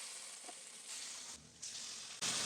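Spice paste hits hot oil in a wok and fries with a soft, steady sizzle that swells louder in bursts, faint and close with no talking.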